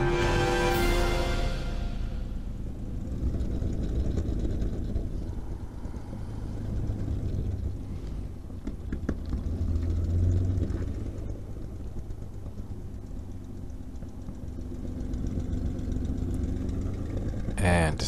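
The engine of a P-51C Mustang runs on the runway during a ride, a low steady droning rumble heard from inside, steady throughout and fairly loud, with a sharp tonal burst at the very start.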